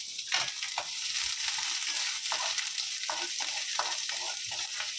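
Sliced onions sizzle steadily in a little oil with salt added, a continuous close frying hiss broken by brief stirring scrapes as a sandwich filling cooks.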